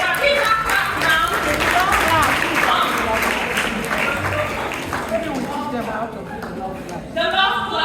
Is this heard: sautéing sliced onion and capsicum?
no